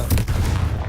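A Confringo blasting spell cast in Hogwarts Legacy bursts out as a single loud, booming, explosive crack with a low rumbling body, lasting under a second.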